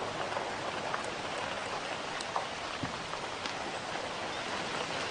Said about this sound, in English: There is the sound, unfortunately mono, of the rain on the roof.